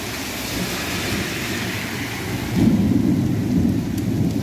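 Thunder rumbles continuously and swells louder partway through, under a steady hiss of heavy rain falling during a rainstorm. It is close and enveloping, with no talking.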